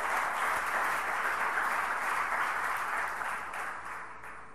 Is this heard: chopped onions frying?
no